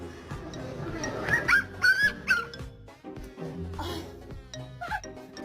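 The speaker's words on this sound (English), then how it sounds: "you whisper bark. You go woof" A dog lets out a few soft, muffled woofs and whimpering yips in quick succession, close to the microphone, with a person speaking quietly between them.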